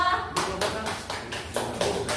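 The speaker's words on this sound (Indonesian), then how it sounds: "Tepuk tangan kelompok 2." A class of students claps for a group after a microteaching presentation, several bursts of close, crisp applause from a small room.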